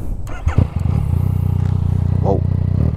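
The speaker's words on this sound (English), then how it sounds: "Start the engine." A Yamaha Tracer 900 GT motorcycle with an Akrapovic titanium exhaust cranks, catches and settles into a loud, rapid idling putter with a brief rev; a voice speaks near the start.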